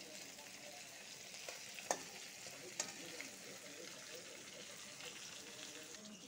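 Pieces of fresh bata fish sizzle in hot cooking oil, a steady close crackling hiss that runs throughout, broken by a couple of sharp pops.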